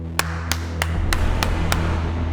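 One person slowly claps by themselves, six sharp, crisp claps at a steady, unhurried pace over a low background hum.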